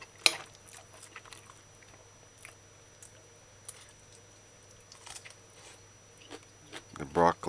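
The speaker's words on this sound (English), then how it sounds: "The broccoli is just crunchy and nice and fresh." Crunchy fresh broccoli from a chicken broccoli oyster sauce dish is chewed close up, with scattered soft bites and crunches over a quiet background and a sharper burst of noise near the end.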